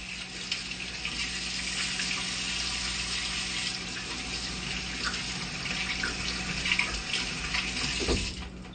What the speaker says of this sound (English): because I handled raw meat, I'm gonna wash my hands